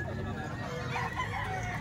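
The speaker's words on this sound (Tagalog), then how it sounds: "Napakagandang manok na oh" An eight-month-old SBR rooster gives a short, close crow, with a voice talking nearby.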